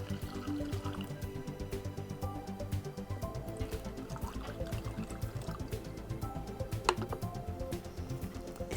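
Water pours steadily onto powdered sodium polyacrylate taken from a diaper, a continuous soft trickle with faint gurgles and drips that lasts throughout, fairly quiet and with no voices.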